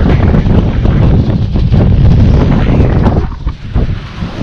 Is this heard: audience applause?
no